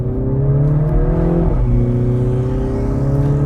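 A 2018 Mini Cooper S, post-facelift, revs its engine under acceleration, a loud steady drone that rises, dips briefly mid-way, then climbs again without a pause, heard from inside the cabin.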